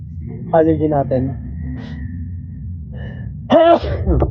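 A single sharp sneeze from a man in a home workout setting, close and loud, followed by brief speech and another short burst of voice at the end.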